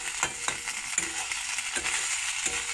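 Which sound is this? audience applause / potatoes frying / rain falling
potatoes frying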